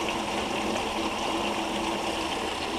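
A recirculating highbanker's pump churns soapy water beside its filter screens, giving a steady, unbroken rush of flowing water with a constant hiss and no voices, fairly close and even in loudness throughout.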